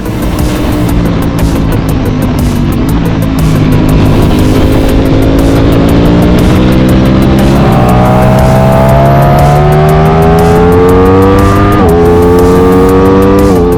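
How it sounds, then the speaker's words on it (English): A 2023 Ducati Streetfighter V4 S engine screams at high revs, climbing through gears with sharp shifts, loud and sustained throughout. "This has also contributed to a better soundtrack, especially when riding at high revs or downshifting aggressively"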